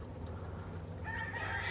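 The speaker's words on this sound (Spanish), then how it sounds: "Muy saludable que se miran esos gallitos." Gamecock roosters at a large cockfighting farm cluck and crow close by, with a crow rising toward the end over a low background hum.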